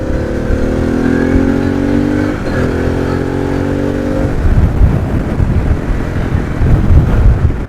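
A Harley-Davidson Pan America motorcycle fitted with a Screaming Eagle slip-on exhaust roars loudly and close by. Engine tones rise and hold, then break into rough rumbling mixed with heavy wind buffeting.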